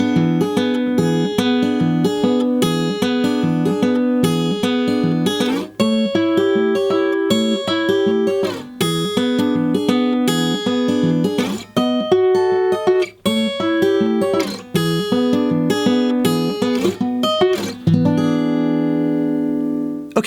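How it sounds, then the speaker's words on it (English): An acoustic guitar plays a Travis fingerstyle pattern through a 12-bar blues in E, with an alternating bass and picked treble notes in a steady rolling rhythm. It is clear and close, ending on a ringing chord, with no talking. "We're going to apply a very basic Travis finger style pattern to that entire 12-bar blues."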